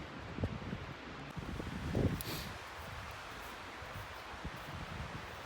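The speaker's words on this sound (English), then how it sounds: "down here, it's nothing but a light breeze at most" A light breeze moving through snowy Rockies woods on a day hike, a faint, soft rustling hiss with a few gentle gusts and scattered low thumps, close to the microphone and with no voices.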